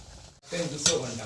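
Fish in a turmeric sauce bubbling in a pot, a brief close sizzle and stir that starts after a short pause and swells with a sharp scraping accent partway through.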